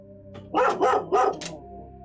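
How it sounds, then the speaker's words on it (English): A dog barks outside, three or four quick, fairly close barks in a short burst over a low steady hum. "I heard the dog outside bark"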